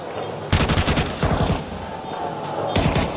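Rapid automatic gunfire bursts from a Counter-Strike 2 esports match, loud and close, firing in a long volley, pausing, then resuming in dense rattling bursts.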